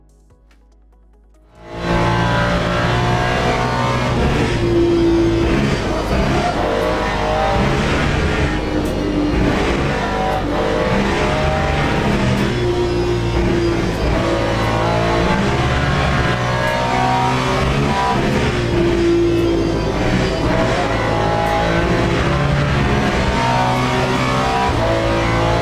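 GT3 race car engine in Le Mans Ultimate at the Lusail circuit, droning loud and steady from the onset with rising and falling revs through gear changes, after a short near-silent start.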